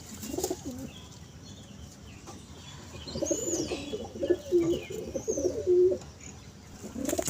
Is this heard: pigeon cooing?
yes